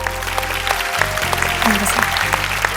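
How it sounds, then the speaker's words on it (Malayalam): Audience applause rises for a singer on a televised musical reality show: a steady, loud wash of clapping over a low hum of stage sound, lasting a few seconds without a break. "അതിന് കൈയടി കൊടുക്കണം"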